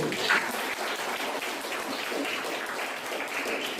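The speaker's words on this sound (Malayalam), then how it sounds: "എന്നാ നല്ലൊരു കൈയടി കൊടുക്കൂ" Audience at a drug-free pledge campaign inauguration event in Adoor claps together, a steady broadband patter of applause sustained for several seconds, moderately loud and continuous with faint murmuring beneath.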